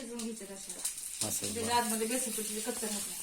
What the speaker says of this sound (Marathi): बघा आता तळायचं होऊन द्या